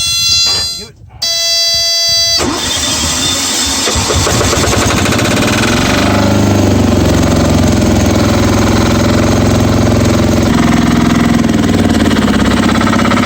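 Yanmar C10R crawler's engine started and running, a loud steady close mechanical drone settling into an even idle after a short buzzing start, with someone speaking over it.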